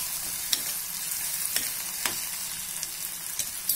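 Onions fry in hot oil with ginger-garlic paste for an egg tomato curry: a bright, dense, continuous sizzle close up, marked by a few sharp spatula taps against the pan.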